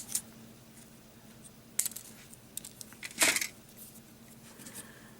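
Thin plastic tubing being cut into small pieces for a sci-fi model base, a few sharp, close snips spaced apart over a quiet background hum.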